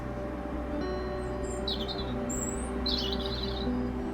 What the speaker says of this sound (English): There was a robin just tweeting away there.